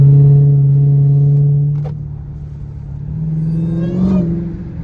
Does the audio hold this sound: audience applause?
no